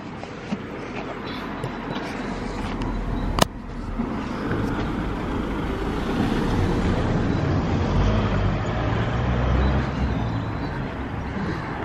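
Cars move along a busy village main street in Heysham, a continuous rushing traffic roar that swells as vehicles pass close, with one sharp clack early on.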